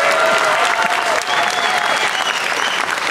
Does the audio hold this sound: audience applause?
yes